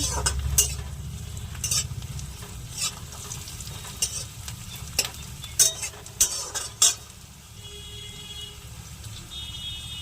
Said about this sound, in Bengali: ভালো করে পেঁয়াজটাকে লাল করে নিতে হবে।